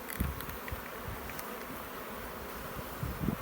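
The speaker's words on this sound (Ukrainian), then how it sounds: "ось так ми подивилися наших бджол" Honeybees hum softly around their hives, a faint continuous drone with a few insects buzzing briefly closer and louder at the start and end.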